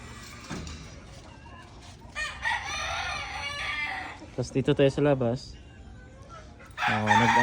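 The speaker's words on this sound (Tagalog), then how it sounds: "Marami sila manok yung pangsabong na manok" Fighting roosters crow loudly nearby, several drawn-out calls one after another, with a person speaking briefly in the background.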